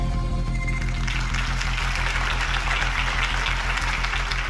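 Crowd applause following a political campaign speech in a Batman video game, dense continuous clapping from a large audience that builds after a brief opening and holds steady throughout.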